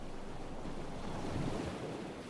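Sea surf rolls steadily onto a beach at low tide, a continuous soft wash of waves with some wind rumble, faint and unbroken, with no voices.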